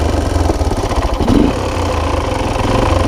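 A worn Honda TRX250 ATV engine runs on partial throttle nearby with a steady mid-pitched chugging drone and a brief rise in revs partway through.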